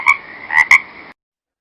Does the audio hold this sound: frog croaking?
yes